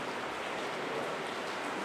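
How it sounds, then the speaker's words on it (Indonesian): Steady rain falls at night as a dense, even hiss of drops, moderately loud and continuous with no voices. "Malam hujan ya."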